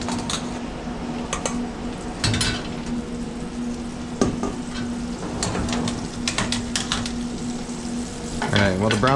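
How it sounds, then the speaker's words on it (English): Butter browning in a pan while making homemade spaetzle, a steady crackling sizzle with occasional sputters and clinks of the pan being shaken, close and fairly loud, with a brief scrape near the end. "while the butter is browning, you want to shake a little bit so it doesn't kind of sputter and browns nice and evenly"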